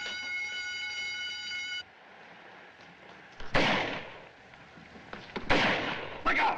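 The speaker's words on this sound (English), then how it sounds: "Keep shooting." Gunfire in a 1942 film scene during a break-in, following a steady burglar alarm buzz: two loud, sharp bursts of shots stand out near the end over quieter background.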